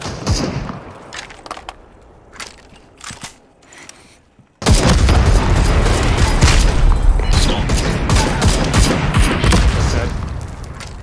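Gunfire in the battle royale shooter Super People: after a few sparse shots, a sudden dense burst of rapid loud firing erupts and continues without pause, with voices faintly underneath.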